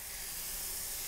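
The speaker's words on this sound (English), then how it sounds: "Nice sizzle on that." Food sizzling in a hot pan before going into the oven, a steady broadband hiss holding at an even, moderate level throughout, close by with no talking.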